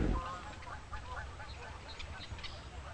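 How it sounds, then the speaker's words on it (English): Canada geese honk and call in a quiet park, fairly faint and scattered over a low outdoor hush, with a brief louder rustle at the start. "Yes, Canadian geese."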